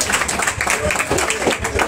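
Club members clap in a steady, fairly loud round of applause at a national gathering, a close, dense patter of many hands with voices mixed in.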